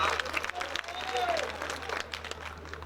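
An audience at a mushaira claps in a steady, dense round of applause, with crowd murmur and voices underneath throughout.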